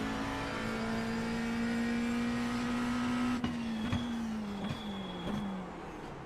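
A McLaren GT3 race car in iRacing at Monza holds a steady high engine drone, then a series of sharp gear shifts and downshifts as revs drop, loud and close with no voices.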